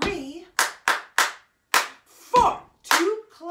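Flamenco hand clapping to a count, several crisp, loud claps in a quick pattern, some in pairs, with short spoken counts between them.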